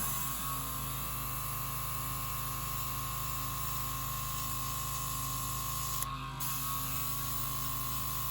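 Airbrush test spray of paint with an air compressor running while painting miniature terrain: a steady, loud hiss with a constant hum underneath, briefly dipping near the end, no talking.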